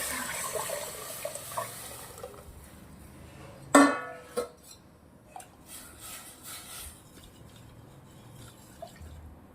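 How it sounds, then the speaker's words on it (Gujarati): A splash and brief clatter as a vegetable mixture is poured into a pan for Gujarati kadhi, followed by soft drips and light kitchen noise in a quiet room. "હવે જે આપણું શાકનું મિશ્રણ છે એ રેડી દેવાનું છે"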